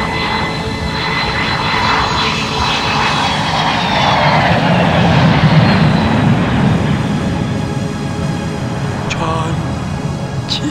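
A passenger airplane's engines roar steadily and loudly throughout, a broad continuous rumble with a rising whine, and voices talk briefly over it.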